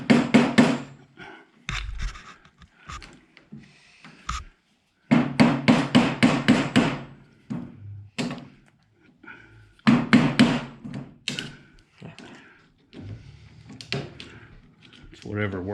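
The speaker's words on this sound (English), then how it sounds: "Alright, so it's claw hammer time." A claw hammer pounds in quick, loud bursts of strikes while a track sled is built in a workshop, separated by pauses and mixed with someone talking.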